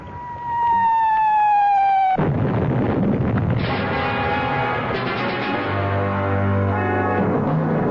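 Bombardment explosions in a radio drama: after a fading high tone, a loud, sustained roar of blasts and rumbling booms fills the scene with dense, continuous low-end power.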